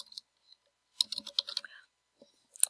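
Light clicks on a computer keyboard, a short cluster of quick keystrokes typing a name, near and fairly quiet, with a few isolated clicks before and after and no voices.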